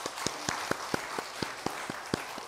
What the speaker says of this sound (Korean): 네, 큰 박수로 축하해 주십시오.